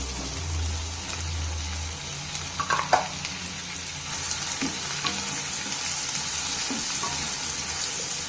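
Cumin seeds and onion frying in butter for palak paneer, a continuous sizzle with a few scraping stirs and light clinks partway through, close and fairly loud with no voices.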